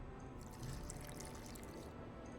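A bit of water is poured into a flask of burnt lime and guano in the video game The Witcher 2, giving a faint, steady trickle and splash that lasts a couple of seconds with no voice over it.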